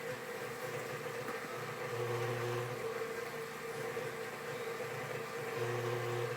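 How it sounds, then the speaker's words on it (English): A stand mixer stirring cinnamon roll dough with butter, a steady low motor hum and whir with slight rises in load, fairly quiet and continuous with no talking. "Now I'm going to start stirring that in my mixer."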